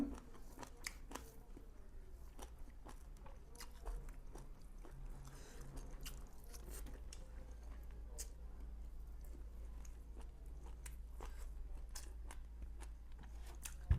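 Someone eats village-style mutton liver curry cooked in a clay pot, with close, irregular biting and chewing sounds running steadily throughout, mixed with faint clicks and a low background hum.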